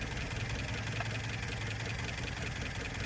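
A cold 1972 Plymouth Cricket engine idles with heavy blow-by, a steady, close mechanical drone with a continuous dense rattle and no change in pace.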